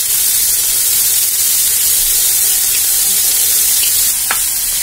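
Salted onions frying in a pan for onion dosa, a loud, steady, hissing sizzle that fills the whole clip with only a faint scrape near the end, close up and without any talking.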